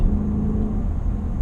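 Dodge Durango SRT engine giving a loud, deep, sustained rumbling rev up close, with a throaty low growl held steady for a moment.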